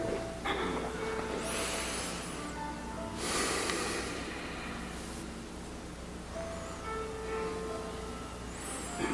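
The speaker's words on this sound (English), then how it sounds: "Deep breathing." Deep, slow breaths during a beginner tai chi session come as long airy inhales and exhales in a few spaced waves, close and soft over a steady low hum, with no talk.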